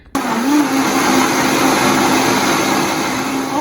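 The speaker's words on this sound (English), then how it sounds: "I'm gonna blend it up." A blender runs steadily, blending banana into a purée for fruit leather; a loud, continuous whir starts abruptly and holds at an even pitch throughout.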